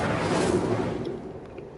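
An Incendio fire spell cast in Hogwarts Legacy bursts out as a short, dense whooshing blast of flame that fades over about two seconds, with no talk.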